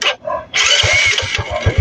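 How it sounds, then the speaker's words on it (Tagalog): A motorcycle engine with a freshly tuned 28mm carburetor cranks over, then catches and runs in a loud close-up burst of rapid firing pulses, with no talking. "Aandar na yung motor."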